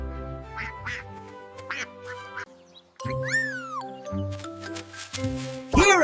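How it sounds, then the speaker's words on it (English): Cartoon duck quacks in a cute 3D animated nursery rhyme, with a bright sliding quack riding over a sung melody and bouncy backing music. "Father Duck, where are you?"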